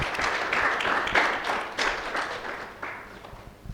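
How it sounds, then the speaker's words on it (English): An audience at a digital marketing course graduation claps to welcome a speaker, a moderately loud burst of applause with a few louder swells that gradually thins out. "I just want us to take this moment to welcome Mr. Alphonse with a round of applause as he comes"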